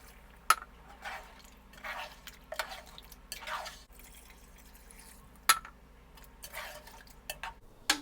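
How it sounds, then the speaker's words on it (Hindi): Water poured from glasses into a pot of chicken nihari, heard as a series of short, separated splashes and drips with quiet pauses between them, close by and moderately loud. "मैंने 2 गिलास पानी भर के इसमें ऐड कर दिया है"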